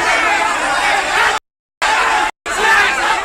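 Crowd of online motorcycle-taxi drivers and residents jammed in a queue for a fast-food BTS meal package, a dense continuous babble of many voices with distant shouts, cut off by two brief gaps of silence.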